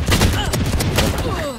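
A short, loud burst of gunfire in the shooter game Valorant, with several rapid shots in quick succession and a dense, booming game soundscape all around.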